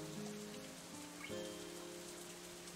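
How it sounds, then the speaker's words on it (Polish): Rain falls steadily outside a window in the Katawa Shoujo video game, a soft continuous patter under a low, faint drone, with no voices. "Deszcz nieustannie opada z szaro niebieskiego nieba na zewnątrz, spływając po szybie mego okna małymi strumykami i rzeczkami"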